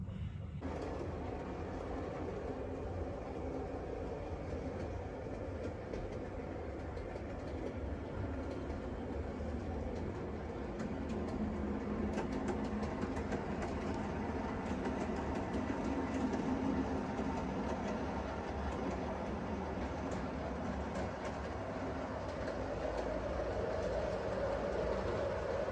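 A model railway train runs around the curves of a layout's top level, a steady rolling rumble with light rhythmic clicking that holds for the whole stretch and swells slightly as it nears.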